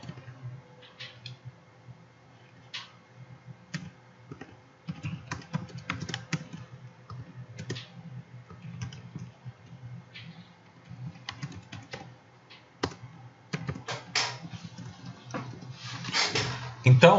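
Rapid, uneven keystrokes on a computer keyboard as code is typed into a console, clattering in bursts and pauses with a voice speaking over it at times.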